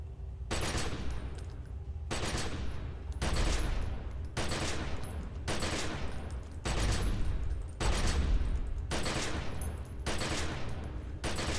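Sustained automatic assault rifle fire in The Secret World video game, loud continuous bursts broken by short regular pauses, with no voices over it.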